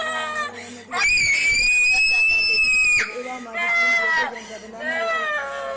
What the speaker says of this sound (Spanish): la niña convulsiona y grita